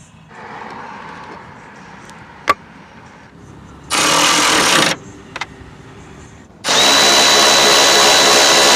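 Power tool tightening the top nut on a Pro Comp ES9000 shock absorber fitted to a Jeep, with vice grips holding the piston: a sharp click, then two loud close whirring bursts of about a second and two seconds, separated by quiet.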